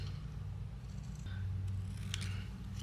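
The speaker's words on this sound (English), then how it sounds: "I'm going to use my scissors, and I'm going to trim this out" Scissors trim around a stamped paper poinsettia image, giving close, steady snipping and soft paper-cutting sounds under a low background hum.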